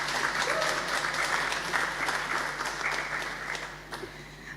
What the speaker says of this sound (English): Let's have a round of applause for our final panelists.